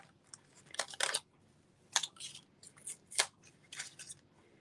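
Scissors snip through paper while a stamped card piece is cut out, several short crisp cuts in uneven bursts close to the listener, with quiet pauses between and no talking.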